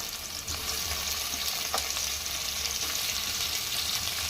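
Onions frying in a pan for a fish curry, giving a steady, close sizzle that stays even throughout, with no voices.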